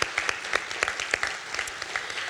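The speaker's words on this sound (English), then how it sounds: "We deserve an incredible, resounding applause." Audience applause at a film industry gathering of policymakers and leaders in Las Cruces, New Mexico: steady, crowded clapping with distinct sharp claps through the din, moderately loud and unbroken.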